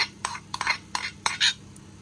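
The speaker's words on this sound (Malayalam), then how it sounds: "അപ്പം അതിനായിട്ട് നമ്മുടെ മിക്സിയുടെ ജാറിലേക്ക് ഇതൊന്ന് ഇട്ട് കൊടുക്കാം." Soaked oats are tipped into a mixer jar: a quick run of sharp clinks and light scrapes from a spoon against the jar, close and fairly quiet, with short gaps between the taps.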